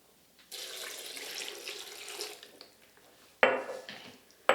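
A cup of water is poured into a blender jar during a Vitamix versus Blendtec comparison, a steady splashing pour lasting a couple of seconds followed by sharp clinks and knocks of the container being handled.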